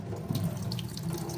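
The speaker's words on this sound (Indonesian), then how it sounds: "Ini kerannya." Water runs from a kitchen faucet into a sink, a steady close splashing rush with no voices over it.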